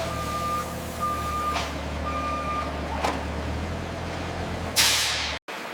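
Trucks reverse into loading bays at a shoe recycling factory, their backup beeps pulsing in steady intermittent tones over a constant engine drone, with sharp hissing air-brake bursts and a final loud release before an abrupt cut.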